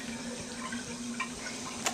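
Tap water runs into a sink in a timber and glass eco house, a steady close splashing stream with a faint underlying hum throughout.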